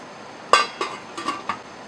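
A lid goes onto a pot of Mexican braised beef with a sharp metallic clink, followed by a few lighter clattering knocks and taps as it settles, close and brief.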